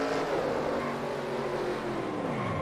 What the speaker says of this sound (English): Let's listen to the throttle. The 31 truck.